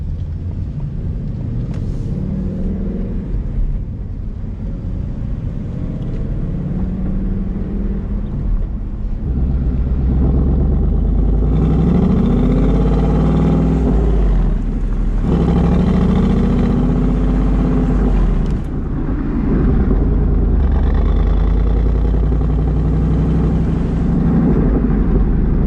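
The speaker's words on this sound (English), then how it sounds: "starting here in quiet mode. And as you can see, quiet mode is extremely quiet." Ford Mustang GT with active exhaust in quiet mode, cruising with windows down: a low, steady engine rumble and road drone that swells gently and shifts in pitch, continuous and with no talking.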